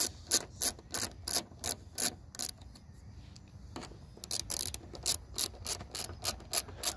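Hand wrench ratcheting in rapid bursts of clicks, with a short pause partway, while a door latch is repaired on a 1994–2001 Dodge Ram or 1993–2001 Jeep Cherokee or Grand Cherokee; close and fairly loud.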